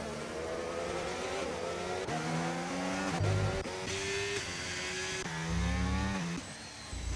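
Formula 1 race cars in a video game race at the Hungarian Grand Prix, engines whining and shifting through gears in a steady layered drone, with pitch steps as cars pass through a corner. No talking.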